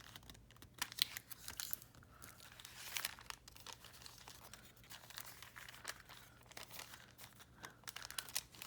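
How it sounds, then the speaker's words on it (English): Paper being folded smaller while making a cascading journal foldout: quiet, close crinkling and creasing, with soft irregular rustles and taps repeating throughout and no talking. "So I'm going to have to fold it a little smaller."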